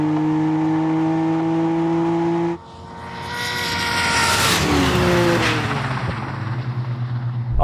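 A Toyota Supra and a Dodge Charger race in a drag race, a loud high-revving engine whine holding steady, then a shift into a roaring acceleration that rises and swells with pulsing exhaust.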